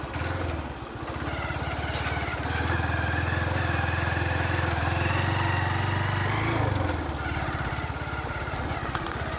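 A motorcycle engine putters continuously up close on a potholed road, swelling louder for a few seconds as the throttle opens, then dropping back.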